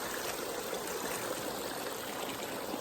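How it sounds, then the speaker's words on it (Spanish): The Cerezuelo river in Cazorla, Spain, rushes steadily nearby, a constant broadband wash of flowing water with no voices and no pauses. "Aquí abajo está el río"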